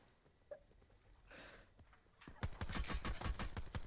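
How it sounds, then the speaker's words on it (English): Sniper gunfire in a video game: sharp, rapid cracks crowd the last second and a half, fairly loud and close after a quieter stretch with a brief faint voice. "Oh, I'm getting sniped at"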